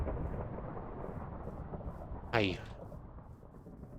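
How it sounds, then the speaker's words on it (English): Thunder in a modded video game with no rain falling, a single rumbling crack rising out of low background noise midway and fading quickly, under a voice. "hear lightning and there's no rain"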